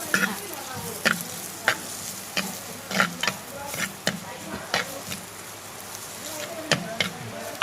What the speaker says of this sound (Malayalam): ചെറിയ ഉള്ളി ചെറുതായിട്ട് അരിഞ്ഞ് നമുക്ക് അത് പഴക്കിടാം അപ്പം നമുക്ക് ഇതങ്ങ് മൂപ്പിക്കാം